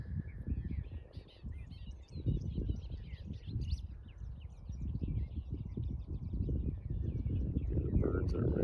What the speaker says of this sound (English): The birds are very active